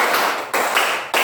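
Classroom of students clapping together in a counted ice-breaking rhythm, three quick bursts of dense claps separated by short pauses, loud and close.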